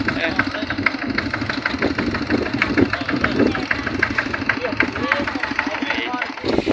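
A vehicle engine runs steadily in first gear with a rhythmic, knocking idle-like chug throughout, and faint voices under it.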